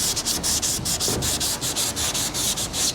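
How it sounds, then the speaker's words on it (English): A DuraBlock sanding block rubs back and forth along a car body line in steady, rapid strokes, a close scratchy rasp repeating about five times a second with no talking. "So now instead of sanding this by hand and wasting time and material, I have this block that fits in there perfectly"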